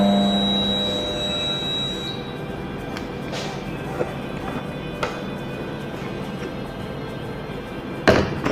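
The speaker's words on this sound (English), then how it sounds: "This beep sound is indicating demagnetization." A bearing induction heater gives a sustained electronic beep for about two seconds that signals demagnetization, followed by a low workshop hum and a few faint knocks.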